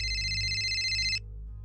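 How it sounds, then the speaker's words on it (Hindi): A telephone rings with a bright electronic trill that sounds steadily for just over a second and then stops abruptly, leaving a low hum behind. "फोन बज उठा"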